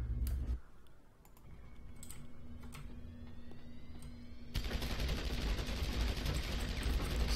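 Gunfire in Deus Ex: Human Revolution, a few sharp transient shots in the first seconds, then a dense loud burst of sustained firing over a steady low hum in the second half.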